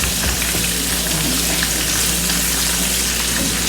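Chicken cutlets frying in pans, a dense continuous sizzle with scattered small pops and crackles, close and steady throughout, no voices.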